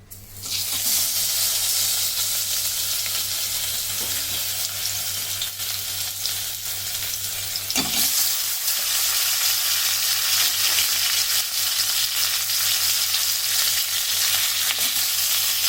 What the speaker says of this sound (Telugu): ఒక గిన్నె ఆయిల్ వేసుకుని ఉడికించిన చికెన్ని వేపుకోవాలి